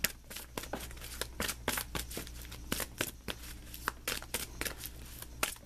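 Tarot cards riffled and shuffled by hand in a quick, close run of crisp flutters and soft slaps, repeating steadily with no voices over them.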